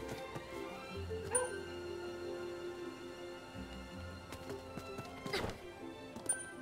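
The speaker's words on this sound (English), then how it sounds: "I have no idea what the bark means." A dog in a video game barks and yips a few times amid soft thuds and clatter, with sharp short calls scattered over a low background hum, fairly quiet and close.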